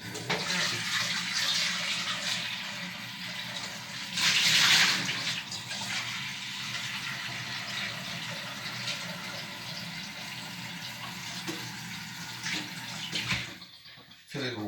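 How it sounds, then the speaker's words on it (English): Water runs from a tap into a cooking pot in a kitchen, a steady rushing flow with a brief louder gush partway through, then the flow cuts off near the end. "fill it with water"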